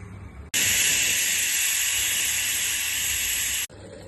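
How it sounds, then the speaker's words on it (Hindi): A loud, sustained pressure cooker whistle hisses steadily for about three seconds, starting and stopping abruptly over a quieter background. "सीटी लग चुकी है हमारी।"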